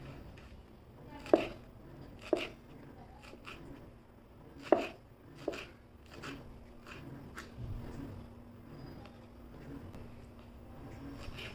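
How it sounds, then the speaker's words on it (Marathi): A knife chops through chickpea greens (harbhara bhaji) on a board in a handful of distinct, irregular strokes that come close and fairly loud, with quieter handling noise in between. "भाजी चिरून घ्यायची"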